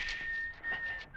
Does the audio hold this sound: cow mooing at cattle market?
no